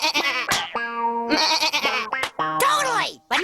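A cartoon character's voice bleats like a goat, the voice imitating the animal in several wavering, nasal bleats broken by short gaps, loud and close throughout.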